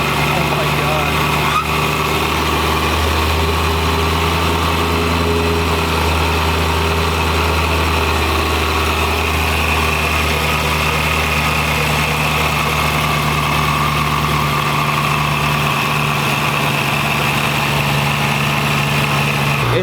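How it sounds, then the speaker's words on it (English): A BMW E90 M3 V8 fitted with a VF Engineering supercharger idles on its first start, a steady, loud mechanical drone with a constant high supercharger whine layered over the engine's low hum. "Instantly you can hear right away the supercharger just has this crazy sound to it"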